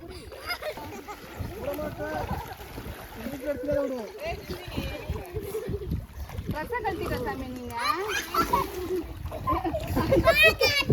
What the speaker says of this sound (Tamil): நீச்சல் அடிக்கிறியடா கொழுப்பு